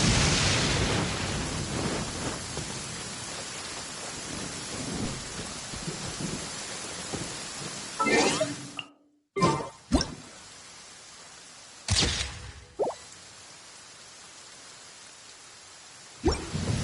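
Heavy rain pours steadily in Genshin Impact, with rumbling thunder at the start. The rain then cuts out and returns in several short bursts, with brief gaps of silence between them.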